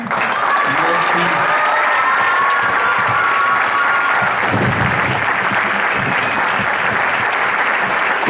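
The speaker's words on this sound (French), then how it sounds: "on applaudit Déborah" An audience at a charity gala applauds a speech with sustained, loud clapping from a crowd, some voices faintly mixed in.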